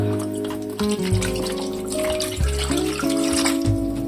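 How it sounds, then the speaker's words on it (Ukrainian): Water is poured into a pot of stuffed peppers in a home kitchen, splashing and gurgling up close in uneven bursts with a rising tone as it fills. "Так, ще треба водички додати."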